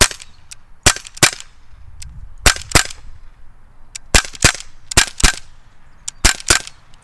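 Gamo P25 repeating CO2 pistol with blowback action firing a rapid string of sharp, loud cracks, in uneven pairs and single shots with short gaps, each with a brief metallic slide clack.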